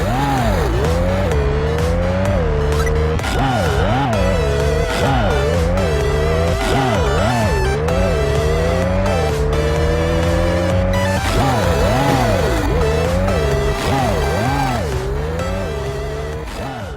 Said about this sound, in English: Some great chip tune music, passable in-game effects, but a really bizarre skid sound